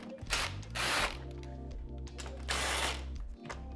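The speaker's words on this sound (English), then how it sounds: "I'm gonna loosen up both of these bolts." A power tool whirs in two loud bursts, close up, loosening bolts on the radiator cover of a Polaris RZR XP, with a steady mechanical hum running between the bursts.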